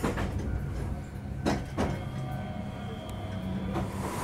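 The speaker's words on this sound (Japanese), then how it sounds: "小町駅を出発すると乗っている市内電車が高浜線の線路を横断" Iyotetsu city tram rolling across the Takahama line railway tracks, heard from inside as a low steady running rumble with a few sharp clacks and thumps as the wheels cross the rail joints.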